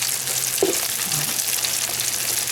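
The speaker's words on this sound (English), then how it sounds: "the little bit of olive oil I added is keeping it wet, so it's softening up and browning up" Cauliflower browns in a pan with a little olive oil, giving a steady, close sizzle of crackling hiss with one brief clink partway through and no voices.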